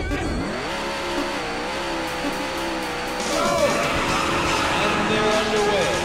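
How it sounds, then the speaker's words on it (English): Race car engines rev at the start line in the Daytona USA arcade game, a loud layered drone that climbs in pitch partway through, under an announcer's voice. "Gentlemen, start your engines."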